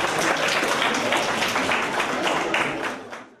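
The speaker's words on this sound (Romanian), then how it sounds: "i-au susținut și i-au răsplătit cu aplauze" Applause from parents, classmates and teachers for talented child actors after a school performance, a dense steady clatter of many hands that holds strong for about three seconds, then fades away.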